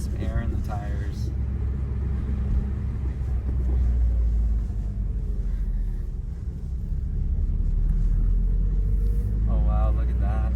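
A 1993 Eagle Talon AWD turbo drives along with a deep, steady engine rumble from inside the cabin, while a person talks intermittently over it.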